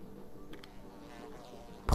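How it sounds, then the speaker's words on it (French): Flies buzzing in a Sims 4 household, a faint, steady insect drone through the scene that ends in a brief louder burst of noise. "Pourtant j'entends des mouches."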